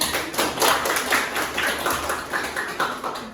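A small class of students in a micro-teaching lesson claps hands together, a steady run of loud, fairly close claps lasting a few seconds with no talk over it.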